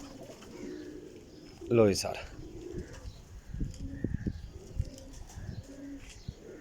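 Rampuri cross pigeons cooing nearby, a brief rippling coo near the start followed by softer bird calls, with someone speaking over and between them.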